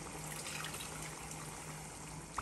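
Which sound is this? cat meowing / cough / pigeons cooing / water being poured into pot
water being poured into pot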